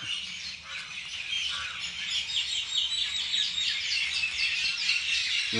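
Many birds call and chirp together from a banyan tree where they have gathered to eat fruit, a steady, dense chorus of overlapping tweets and squawks that continues throughout with no talking.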